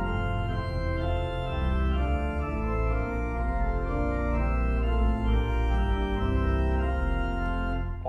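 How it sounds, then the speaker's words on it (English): Hybrid pipe-and-digital church organ with all principal stops drawn together, giving a full, bright Baroque-like chorus that plays continuously and loudly through a flowing passage, with no talking. "If you combine all the principals, you get a sound like this."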